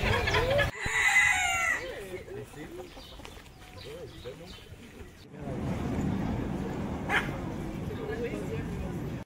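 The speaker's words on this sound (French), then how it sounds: "Il y a même des coqs ici." Roosters crow and cluck in a park in Rennes, Brittany, near and fairly loud at the start, with a dog barking and a voice talking over much of it, then quieter outdoor background.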